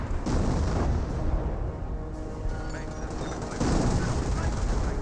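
Gunfire from a Company of Heroes battle crackles in dense bursts with rumbling impacts, a steady wash of shots that swells again near the end.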